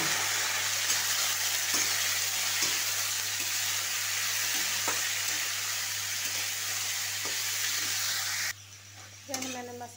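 Cauliflower and onion fry in a pan, giving a constant loud, close sizzle with small crackles. The sound drops away abruptly near the end, followed by a brief scraping clatter.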